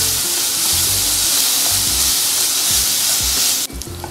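Onions sauté in a hot pan for a dry-roasted chicken dish, a loud continuous sizzle up close with low rhythmic stirring thumps and no talk.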